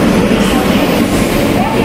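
The Howrah–Chennai Coromandel Express pulls into a station platform with a steady, loud rumble of rail noise throughout.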